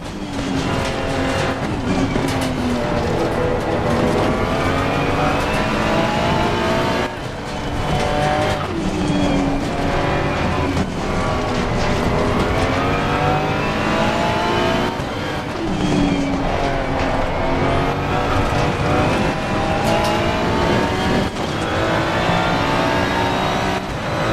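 Race car engine from Assetto Corsa Competizione, loud and continuous, with revving that rises and falls through gear changes and occasional tire squeal as the car is chased from behind.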